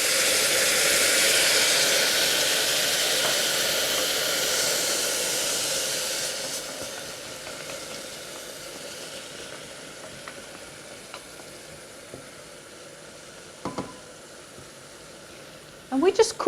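An onion sizzles in a hot pot, a steady frying hiss that starts strong, gradually softens, and ends with a few sharp utensil clinks.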